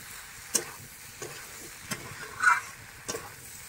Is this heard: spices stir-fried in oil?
yes